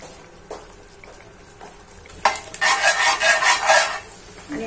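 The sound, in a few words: pav bread being toasted on a tawa griddle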